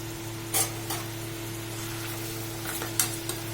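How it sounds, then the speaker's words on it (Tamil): Thinly sliced onions fry in oil for an onion samosa filling, giving a faint, steady sizzle over a low hum, with a couple of brief clinks. "வெங்காயம் கொஞ்சம் வதங்கட்டும்"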